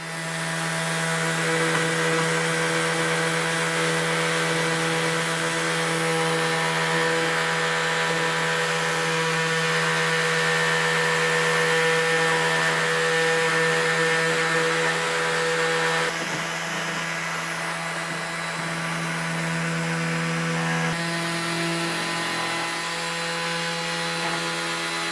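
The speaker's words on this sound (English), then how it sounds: "We're gonna kick this off with the detailer." Worx 5-in-1 detailer sander running with 60-grit paper: a steady, loud electric motor whine with a buzzing abrasive rasp, continuous and alone, shifting slightly in tone partway through as pressure on the workpiece changes.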